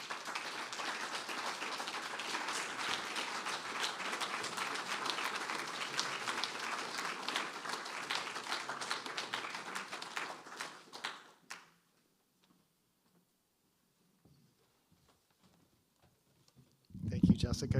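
Audience applause after a poetry reading at a faculty presentation, a sustained crowd of clapping for about eleven seconds that fades out into near silence, with a brief loud sound at the very end.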